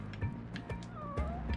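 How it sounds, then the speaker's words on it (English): A cat meows clearly and up close, a short drawn-out call standing out over a busy background. "Meow, meow."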